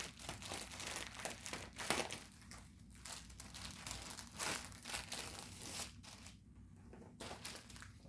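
Cross-stitch kit packaging being unwrapped, with faint crinkling and rustling of plastic and paper in irregular bursts, close and quiet, with no talking.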